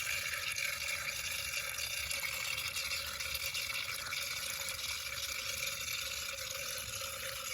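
Water drains steadily out of a rock tumbler barrel full of gray slurry while beach glass is made, a faint continuous trickling and splashing with no talk.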